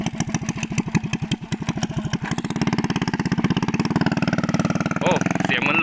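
A Honda Wave 110i with a 53 mm bore, running with no exhaust pipe, fires in loud rapid pulses that build into a steady high-revving drone, close by, with voices faintly underneath.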